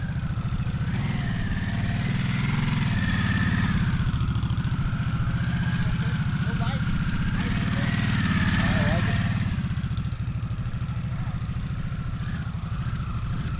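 Harley-Davidson Nightster motorcycle being ridden, its engine droning steadily and loudly throughout with slight rises and falls in pitch, and wind rush mixed in.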